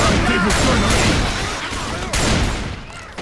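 Rapid pump-action shotgun blasts fire in a Left 4 Dead 2 zombie fight, loud and close, amid chaotic game noise with a voice talking briefly.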